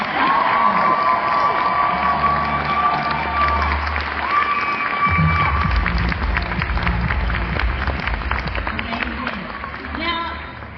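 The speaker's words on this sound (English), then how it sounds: "Everyone give a massive cheer for Whitey Cosplay." An audience at the 2024 PAX Champion of Cosplay competition cheers, claps and shouts in a loud, sustained roar, with a voice over the hall's sound system and music underneath.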